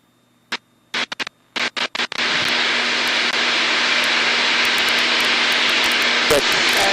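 An aerobatic airplane's engine roars loudly and steadily as the plane pulls into a vertical climb. A few short bursts of radio or cockpit noise come first, and the drone continues to the end.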